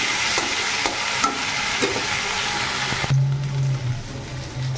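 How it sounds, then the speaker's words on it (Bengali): Garlic and ginger paste sizzles in hot oil in a pan. Scraping stirs sound in a few sharp strokes, and the sizzle stays steady and close, with no talking. "রসুন বাটা আদা বাটাটা দিয়ে দিচ্ছি, দিয়ে একটু কষে নেবো।"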